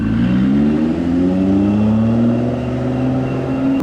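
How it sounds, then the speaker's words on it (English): A Lotus Emira development car's V6 engine runs close by, a loud, steady mechanical drone whose tone climbs slightly as the revs rise, with no voices. "You can hear the nice little sound coming from the V6."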